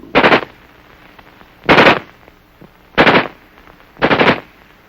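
An XM16E1 5.56mm rifle fires four loud, separate short bursts at roughly even intervals, each a sharp clattering blast with quiet pauses between.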